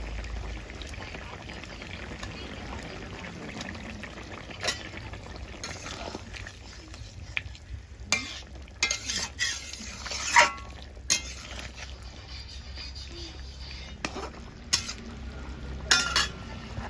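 Fried rohu fish goes into a simmering bean curry and gets stirred, with faint bubbling under sporadic clinks and scrapes of a spoon against the pot, close and soft.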